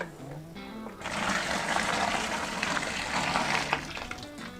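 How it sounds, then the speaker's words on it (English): About two litres of freshly boiled kettle water poured into a bucket of strawberries for wine, a steady close gush and splash that begins after a second and runs unbroken to the end. "So in goes the other 2 litres."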